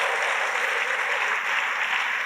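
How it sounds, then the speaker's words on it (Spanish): An audience at a church conference claps together in a steady, dense wash of applause that fills the whole moment without pause. "Date un aplauso."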